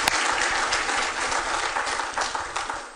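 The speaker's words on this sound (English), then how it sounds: "I want to give them applause right now." Applause at the AFA 2014 Hall of Fame awards for an inductee's parents and spouses, a steady wash of many hands clapping continuously for about three seconds, fairly close and alone without talk.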